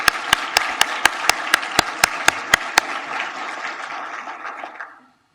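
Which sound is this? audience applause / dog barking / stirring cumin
audience applause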